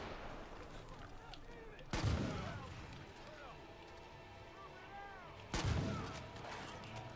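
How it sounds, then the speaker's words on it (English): Shotgun firing in the Far Cry 5 video game, two heavy booming blasts a few seconds apart over faint background game sounds. "This shotgun is super powerful."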